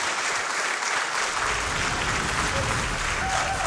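An audience at the Summer Games Done Quick 2022 speedrun event cheering and applauding, a dense continuous roar of clapping that swells early and holds steady and loud throughout.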